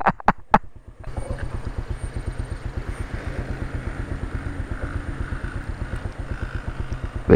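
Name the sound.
Honda Cub motorcycle engine running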